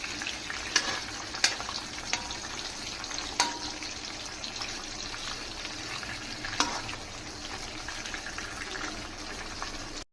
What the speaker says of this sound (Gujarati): હવે જ્યાં સુધી કાજુ ગોલ્ડન બ્રાઉન ન થઈ જાય ત્યાં સુધી આપણે એને સાતળશું.